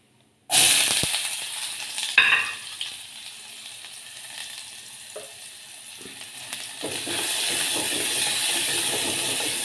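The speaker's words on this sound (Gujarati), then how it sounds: "ડુંગળીને લાઈટ ગુલાબી થાય ને ત્યાં સુધી સાતળવાની" Onions sautéing in a pan for a traditional Kathiyawadi dahi tikhari, a steady loud sizzle and frying hiss that runs throughout, with a few scraping stirs and clinks near the start and a fuller sizzle toward the end.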